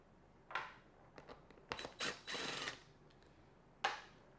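A power tool whirs in short bursts and then a longer run, removing screws from the seat of a 2019 Harley-Davidson Road King Special motorcycle, with clicks and ratcheting in between, close by and fairly quiet.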